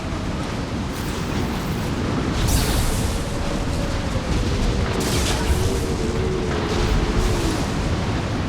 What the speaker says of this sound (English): Flashbang out of nowhere